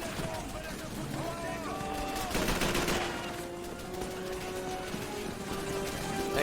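Gunfire in Call of Duty 3, a dense run of rapid shots and distant bursts blending with battle ambience and a faint drone, loud and continuous, with a voice talking over it.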